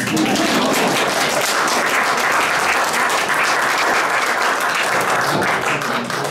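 Sustained audience applause fills a book launch event, dense and steady clapping from a crowd throughout, close and loud.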